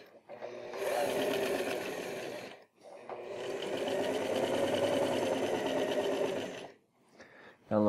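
Sewing machine quilting waxed canvas backpack straps: two long bursts of rapid, close motor whirring broken by brief pauses, with a short clunk at the end.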